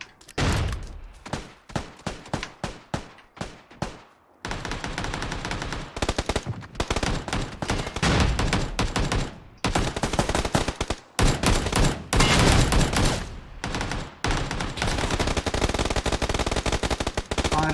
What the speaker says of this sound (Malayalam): ആരാണോ വെടിവെക്കുന്നത്?